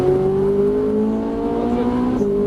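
A Ferrari 458 Italia on a racetrack pulls back up to full throttle, its engine note climbing in a smooth rising whine, loud and close, with a brief shift near the end.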